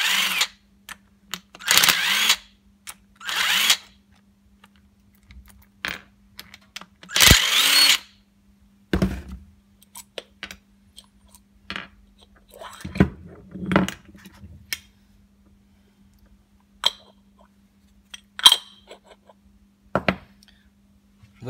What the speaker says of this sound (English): before we tap that hole there, we're gonna take the oil pump apart